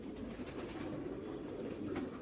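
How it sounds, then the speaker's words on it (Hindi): A large, heavily feathered Tonk breeding pigeon held in a loft gives soft, low cooing that murmurs steadily under faint background noise, with no one speaking. "इतना बड़ा कबूतर है और परों से भरा हुआ कबूतर है ये।"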